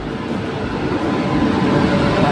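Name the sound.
train arriving at the platform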